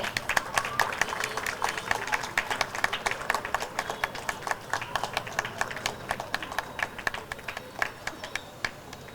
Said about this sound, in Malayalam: നല്ലൊരു കയ്യടി കൊടുത്തൂടെ?